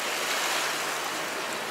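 Sailboat moving through waves off Texada Island in a light breeze, a continuous broad wash of water and wind rushing past, close and fairly loud throughout.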